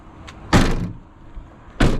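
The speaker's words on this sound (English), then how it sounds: "And then, Becky, if you can shut that door for us, please" An RV's door is shut twice, each a loud, close thud with a brief rattle, separated by a quieter pause with faint background noise.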